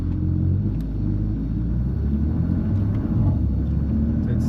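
A 1000-horsepower BMW M3 idles with its exhaust valves closed, a steady deep rumble and low engine drone that stays close and even throughout without any revving.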